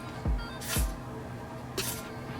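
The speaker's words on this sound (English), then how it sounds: "Don't spray too much of this stuff or it's gonna come out real shiny" Two short hissing bursts of aerosol hair spray, each with a soft click as the nozzle is pressed, in a quiet room.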